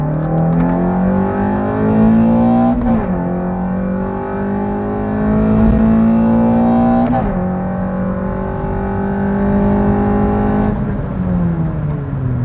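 A 2015 ninth-generation car with a K24 engine, ram intake and muffler delete accelerates hard from second gear on a road test, its loud, raspy engine note climbing steadily through the revs in repeated pulls, each ending in a brief dip at the shift.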